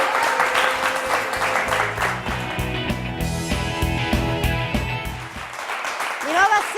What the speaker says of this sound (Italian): Andiamo in pubblicità con l'applauso delle proloco in studio.